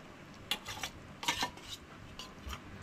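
Mixed fish pieces tipped into a pot of Goan curry, bursts of clattering and scraping against the pot with soft wet knocks, several short clusters over a quiet background, no talk.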